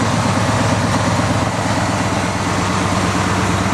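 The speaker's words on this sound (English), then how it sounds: "It idles just fine." A 1982 Jeep Wagoneer engine idling steadily, a loud low rumble with an even pulsing beat, close up and unbroken.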